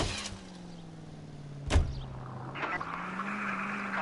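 A car in the video game L.A. Noire drives with a steady, low engine drone. A sharp thump like a door or impact cuts in near the middle, and the engine pitch rises slightly near the end, with no speech.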